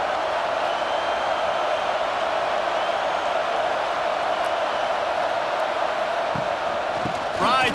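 A stadium crowd in the EA College Football 26 video game, Indiana at Michigan in a rain game, keeps up a dense, steady roar throughout, loud and unbroken, with a brief swell near the end.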